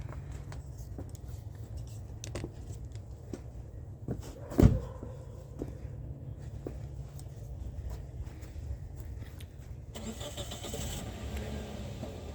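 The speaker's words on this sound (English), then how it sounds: "That big block speaking for itself." A big block engine installed in an '87 R30 car runs steadily at close range, a continuous low rumble with a sharp knock partway through and a shift in tone near the end.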